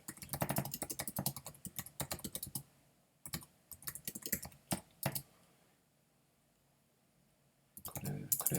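Rapid runs of crisp keystrokes on a computer keyboard come in several bursts separated by brief quiet gaps, close and clear as text is typed out.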